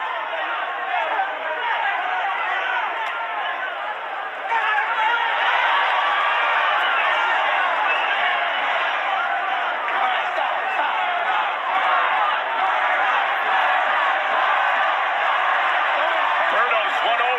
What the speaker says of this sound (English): Berto's won over a big part of this crowd. You hear the Berto chants.